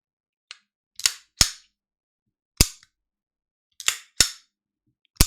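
Sharp metallic clicks snap out one at a time and in quick pairs, crisp and close against silence, from a starter pistol being dry-fired.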